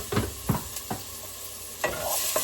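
Ground turkey sizzling in a heated pan with onions sweating, a steady hiss broken by several scraping stirs of a utensil, close and clear with no talk.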